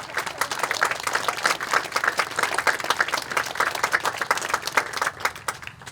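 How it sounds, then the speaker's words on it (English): An audience at a monument dedication bursts into dense, sustained clapping that stays even for about five seconds before thinning out at the end. "please join me in a round of applause for them"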